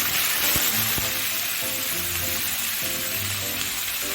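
Whole cumin and a ground spice paste sizzle steadily in hot oil while a live freshwater prawn dish is cooked, a constant close hiss with a few brief sharper pops and no talk.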